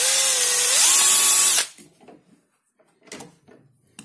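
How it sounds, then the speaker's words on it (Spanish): A power drill bores a small pilot hole into a tube, whining loudly and steadily for about a second and a half, rising in pitch midway, then stopping, followed by a few faint handling clicks. "Lo siguiente va a ser realizar un agujerito aquí,"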